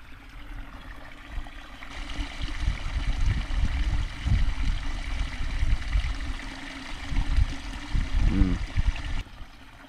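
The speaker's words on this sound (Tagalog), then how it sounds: "Nako, umulan naman." Heavy rain falls on a farm fish pond in a steady broadband hiss of water with low rumbling gusts, continuous and fairly close, with no talk.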